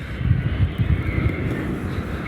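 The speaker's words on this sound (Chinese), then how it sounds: "马上即将落地进港的飞机来了，正在减油减速，下降高度" A passenger airliner flying from Hefei Xinqiao to Chengdu Tianfu with 170 passengers on board, easing off power and descending on final approach to land. A steady, moderately loud low rumble rolls on throughout with no voices.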